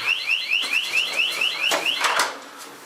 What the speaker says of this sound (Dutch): we krijgen alarm door